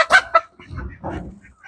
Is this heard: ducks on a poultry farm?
yes